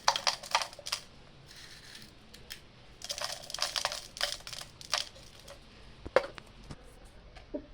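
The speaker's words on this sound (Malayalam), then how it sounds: "ഇനി അതിന് ശേഷം നമുക്ക് നമ്മളുടെ കല്ലുപ്പ് ഇട്ട് കൊടുക്കാം ഇതിലോട്ടേക്ക്" Bursts of hard little rattling clicks sound as rock salt is dropped into a glass bottle while preparing a lovelolika pickle, coming in uneven clusters close by and without talk.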